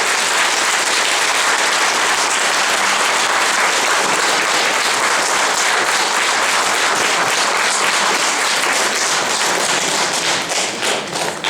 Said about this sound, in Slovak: pani Hanesová si zaslúži naozaj obrovský potlesk